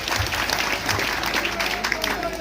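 Audience applause at an Odia jatra opera stage show, a dense, continuous clatter of clapping from a large crowd, with faint voices and a sustained musical tone beneath it.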